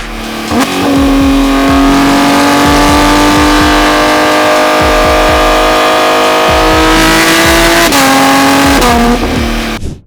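A straight-piped Porsche 992 GT3 RS with aftermarket headers and exhaust revs hard and holds a raspy, rumbling exhaust tone, rising and dropping in pitch with sharp crackles, very close.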